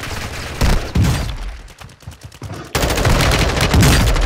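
Rapid bursts of automatic gunfire from a Call of Duty match, loud and dense, with a brief lull midway before heavy firing resumes to the end.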